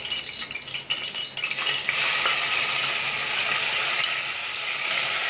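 Onions hit hot oil in a pot for Egyptian home-style koshari rice and burst into a loud, steady sizzle that swells after a quieter start and holds close and continuous.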